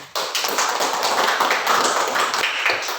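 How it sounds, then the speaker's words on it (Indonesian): Applause in an Indonesian classroom for a student, a group of children clapping rapidly and steadily, loud and close, with no talking over it. "Kita berikan aplaus untuk kakak Aditya dulu."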